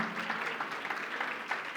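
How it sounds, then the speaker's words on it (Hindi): Congregation at a church conference claps in praise, a fairly quiet but continuous patter of many hands with a slight rhythmic pulse, no speech over it. "प्रभु के लिए ताली होनी चाहिए।"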